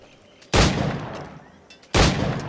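Two loud, sharp gunshots fired at targets in Assassin's Creed 4 Black Flag, the first about half a second in and the second near two seconds, each with a ringing tail that fades gradually before the next.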